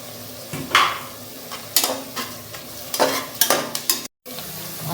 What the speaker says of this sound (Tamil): இப்போ வந்து ஆயில்ல வந்து ஆனியன்ஸ் ஃப்ரை ஆயிட்டு இருக்கு.